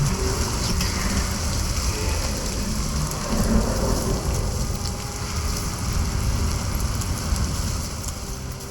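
A heavy thunderstorm rages in the game Senua's Saga: Hellblade 2, dense steady rain roaring close with low rumbling thunder rolling underneath throughout, no voices.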